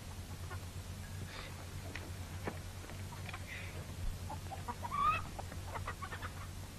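Chickens cluck softly in a farmyard, scattered short calls and a few higher squawks over a steady low background hum, faint and without speech.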